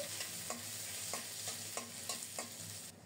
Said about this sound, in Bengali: আদাটাকেও লালচে করে ভেজে নেব